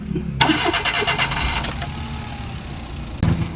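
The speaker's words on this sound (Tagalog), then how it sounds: "Engine start" A Suzuki DA64 with a K6A engine, previously misfiring badly, cranks briefly and catches, settling into a smooth steady idle, with a short mechanical clunk near the end.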